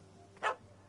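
A single short bark comes from a puppy in The Witcher 3: Wild Hunt, close and fairly clear over a faint background hum.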